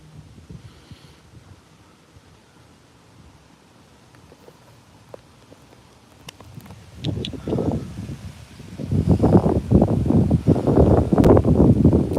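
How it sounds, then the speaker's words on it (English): Wind blowing outdoors in Detroit, starting as a soft rustle and building after several seconds into loud, gusty buffeting against the microphone that lasts to the end. "You need some of that wind in Detroit? Yeah, it's nice and windy."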